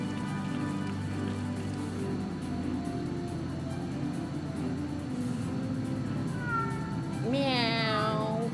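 A cat in Final Fantasy XIV gives a single rising, wavering meow near the end, clear over a steady low background hum.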